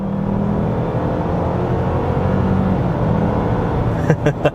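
A 2024 Ford Ranger XLT V6 pickup accelerating hard in sport mode, giving a steady, full engine rumble that builds slightly, with a few sharp clicks near the end.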